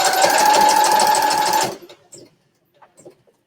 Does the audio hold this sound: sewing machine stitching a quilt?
yes